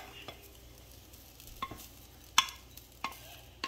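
Grated coconut stirred and roasted in a pan for a traditional coriander sambal, giving a faint, soft dry scraping and rustling with a few light clinks of the spoon against the pan.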